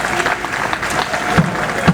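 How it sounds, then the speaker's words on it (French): An audience at an International Theatre Day event applauds very loudly in a thick, sustained burst of clapping with a few sharper claps standing out. "On applaudit très très fort"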